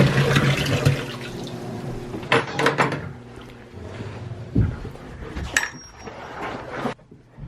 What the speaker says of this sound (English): Some warm water in there and makes a nice drink for them on a cold morning.